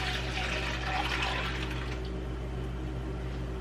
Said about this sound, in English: So go ahead and add that into your crock pot.